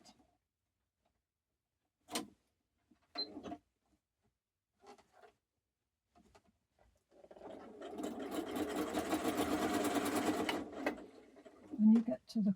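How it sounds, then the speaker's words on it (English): A sewing machine stitches quilt binding flat in one steady, fairly loud run of about three and a half seconds, preceded by scattered quiet handling clicks and followed by a brief thump. "And then we're going to sew the binding flat."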